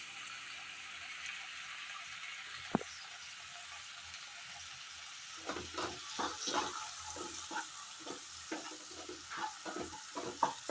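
Two small chopped tomatoes frying in a pan for palak paneer: a faint low sizzle at first, then soft intermittent stirring scrapes and spatters, quiet and close with no voices.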